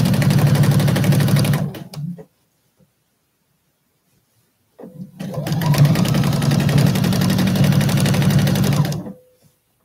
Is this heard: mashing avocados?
no